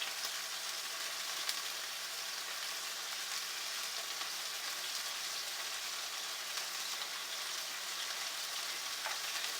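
A jicama and pork burger mixture fries in hot oil for keto cooking, giving a steady close crackling sizzle with small pops, unbroken and without speech.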